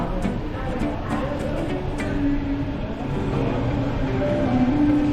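A Sydney double-decker train on the T8 line arrives, a steady broadband rumble and rolling noise with some faint higher squeals, continuous and moderately loud without clear speech.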